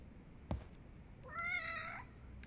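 A cat in the video game Judgment gives a single drawn-out meow, clear and fairly close, after a brief knock, over a low ambient game backdrop.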